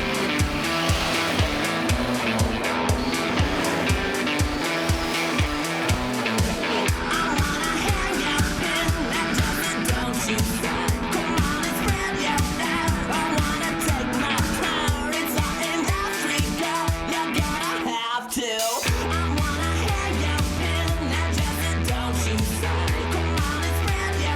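Rally car engine of the White Tiger racing a special stage at the Mexican 1000, a loud, sustained, revving drone with rapid gear-change pulses, dropping abruptly near the end into a steady low rumble.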